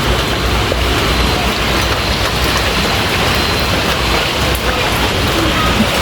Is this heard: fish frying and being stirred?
no